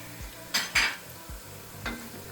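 Pepper paste being stirred and sautéed in a pan for olive-oil green beans, with a few sharp spoon scrapes against the pan over a soft background sizzle, no voices.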